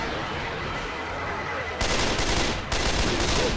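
Gunfire in the zombie shooter Left 4 Dead 2, a dense noisy burst of rapid shots that starts suddenly partway through and continues loudly with a brief gap, over a busy background of game noise.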